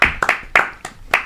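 A small group claps in short uneven bursts, five or six sharp close-up hits with brief gaps, sounding like a scattered round of applause in a room.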